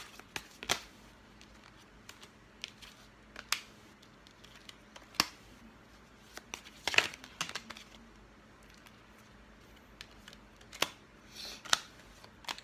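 Tarot cards being drawn out and handled, with sparse crisp clicks and soft flicks spread across a quiet room, close and faint, with no talking.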